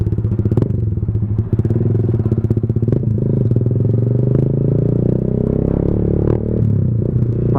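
A motorcycle with a Leo Vince GP Corsa Shorty carbon fiber exhaust on a stock-bore engine, loud and close, with a rapid throbbing exhaust pulse. The engine is blipped in sharp bursts, then holds a steady, heavy drone.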